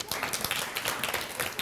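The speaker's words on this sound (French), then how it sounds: "Applaudissez pour vous." Brief burst of applause from pupils at a school quiz competition semi-final, scattered hand claps rising and fading quickly.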